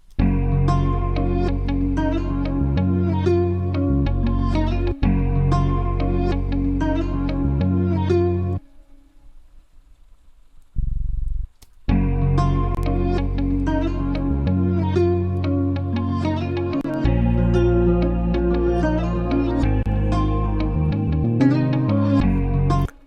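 Quantized Afrobeats bass line programmed in FL Studio, a steady groove under a full guitar-led beat, dropping out briefly near the middle before the whole loop returns loud and dense.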